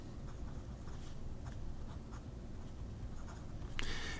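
A gold-plated fine No 8 steel fountain pen nib glides wetly and smoothly across paper, giving a faint, close, continuous scratch with a slightly louder stroke near the end.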